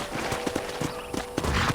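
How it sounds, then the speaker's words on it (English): Rhythmic hoofbeats of a horse clip-clopping at a steady walk in the video game Red Dead Redemption, evenly spaced and fairly close, with no talking. "I picked out a fine horse for you"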